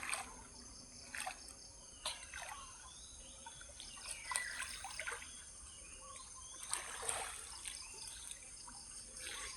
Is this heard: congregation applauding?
no